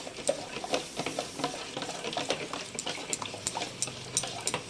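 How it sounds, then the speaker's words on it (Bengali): A spoon stirs milk boiling in a pot over and over, giving quick repeated scraping clinks and a faint bubbling sizzle underneath, close and fairly quiet, with no talk over it. "এখানে আমার দুধটা ততক্ষণ ফুটছে, কিন্তু দুধের মধ্যে সর পড়তে দেওয়া যাবে না।"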